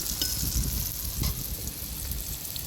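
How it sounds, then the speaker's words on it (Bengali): Pumpkin fries in a pan on a rooftop cooking setup, giving a continuous close, dense sizzle with faint stirring and no talk. "আর এই জায়গায় কুমড়া ভাজা"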